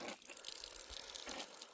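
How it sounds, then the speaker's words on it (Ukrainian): Water poured from a container over a freshly filled planting hole for raspberry canes in garden soil, a short faint splashing gush outdoors with no talking. "Так, проливаю це все водою."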